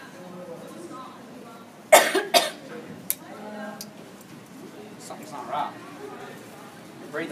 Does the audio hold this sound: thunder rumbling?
no